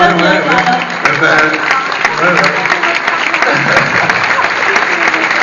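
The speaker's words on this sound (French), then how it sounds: "on applaudit Bernard qui sera là l'année prochaine" Steady, loud applause from an audience at a Dieudonné stage show continues throughout, with voices talking and calling out over the clapping.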